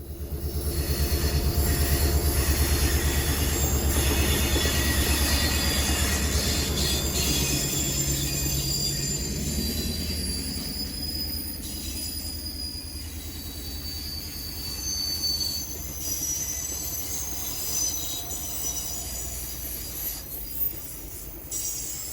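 A heavy GP11 diesel locomotive leads an excursion train past on U.S. Sugar rails, rumbling loudly with a deep engine drone, rolling wheel noise and faint wheel squeal, gradually easing.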